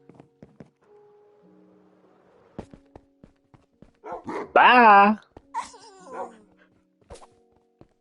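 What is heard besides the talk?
dog barking in Minecraft video game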